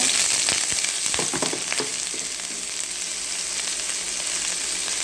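Washed mixed vegetables fry and sizzle loudly in hot oil with fried onion, with stirring scrapes and clatter near the start, settling into a steady hiss.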